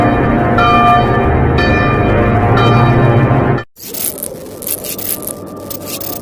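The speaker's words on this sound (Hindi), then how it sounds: "दूर मंदिर की घंटी बजती है" A temple bell ringing in the distance, several resonant strikes with long humming decay, then cutting off abruptly into quieter hissing ambience.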